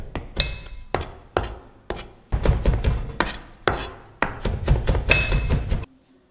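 Peeled onions are crushed on a board before frying, heard as a series of sharp, close thuds and knocks, some spaced apart and others in quick bursts, ending in quiet.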